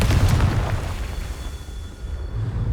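Confringo spell explosion in Hogwarts Legacy: a loud, close, booming blast that fades into a rumbling tail.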